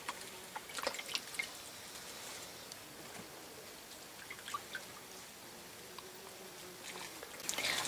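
Nutrias bathe in water on a hot day, producing faint, scattered splashes and drips with quiet gaps between them.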